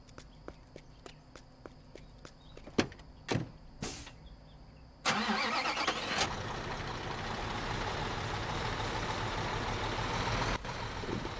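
Truck in the Construction Simulator 2015 video game: a few sharp clicks and thumps of a door and cab, then the engine kicks in abruptly and settles into a steady, loud idle rumble.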